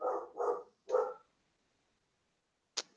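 A dog barks three times in quick succession, close and fairly loud, then falls silent before one short, sharp yelp-like sound near the end.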